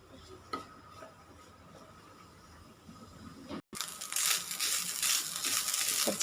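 Grated coconut with shallots, garlic, curry leaves and cumin roasts in a pan for a sadya-style sambar, soft stirring scrapes and a light sizzle that grow louder and busier after a short pause.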